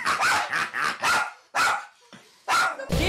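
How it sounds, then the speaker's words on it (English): A dog barks repeatedly in short bursts, fairly close and loud, with brief pauses between barks. "What are you barking at?"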